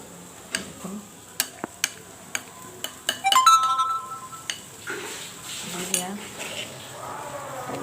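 Metal lid set down over a pan of paneer cooking in ghee: a series of sharp clinks and taps, then a louder clatter and rattle, with kitchen noise and a faint voice between.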